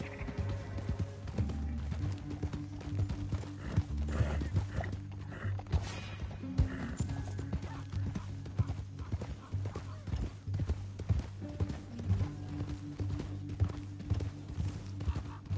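Rhythmic clip-clop of horse hooves galloping steadily over hard ground in a video game, close and continuous, with a low hum underneath.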